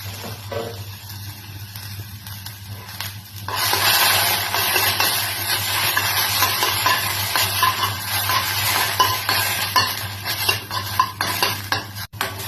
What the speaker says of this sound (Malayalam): ഇനി നമുക്ക് ടൊമാറ്റോ, അവസാനമായിട്ട് ടൊമാറ്റോ മൂപ്പിച്ചെടുക്കാം